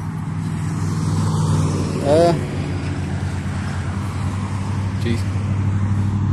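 A weed eater engine mounted on a bicycle runs as a steady, loud droning buzz throughout, with a brief rising whine near the middle and a short spoken exclamation over it.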